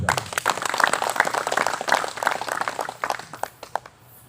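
Banser members of Ansor clap together outdoors on a hillside at night during disaster-response work in Cilacap, a steady, close round of applause lasting a few seconds and thinning toward the end.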